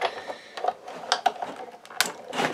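A die-cutting machine presses metal dies through paper, producing several short mechanical clicks and ratcheting bursts at close range with quiet gaps between them.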